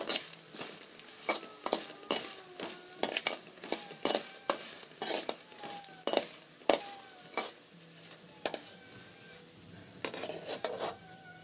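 Coriander seeds, cumin and dried red chillies dry-roast in a pan for chutney, with a spoon scraping and clinking against the metal in quick irregular strokes, close and fairly quiet, with faint crackling between strokes.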